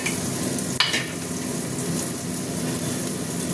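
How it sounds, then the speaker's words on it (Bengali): Bay leaf and dried red chilli dropped into hot mustard oil, a sharp crackle at the drop and then a steady close sizzle that carries on alone. "তেল গরম হয়ে গেছে, তেজপাতা দিয়ে দিলাম, একটু শুকনো লঙ্কা"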